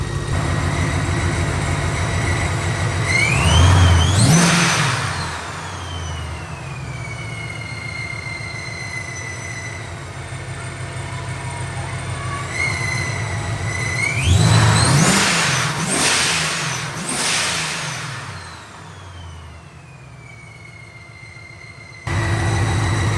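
Nearby supercharged car engine revved hard twice, each burst climbing in pitch then falling back to a steady idle rumble between them.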